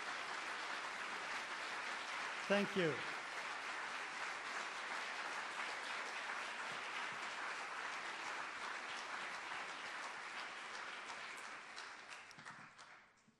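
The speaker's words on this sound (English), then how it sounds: "let us give them a nice round of applause" A long, even round of audience applause at a Millennium Stage folk-art concert, sustained and fairly distant before fading near the end, with a brief spoken thanks partway through.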